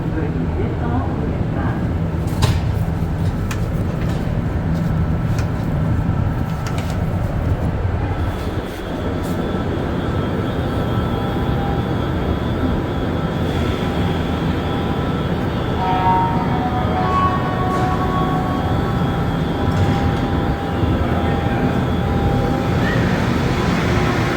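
A Montreal Metro MR73 train pulls out of the station, a loud steady rumble of wheels and motors with rising whine tones and brief high squeals, with people talking faintly nearby.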